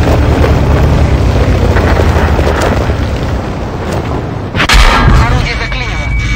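Tank cannon fire in the World of Tanks video game, a dense, sustained roar of booming shots and rumble with one sharp loud blast near the end, under a little voice.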